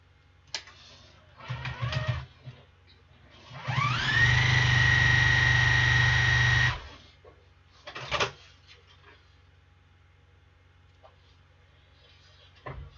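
A sewing machine runs in a single burst of about three seconds, motor whining up to a steady, fairly loud hum, with short clicks and handling knocks before and after it.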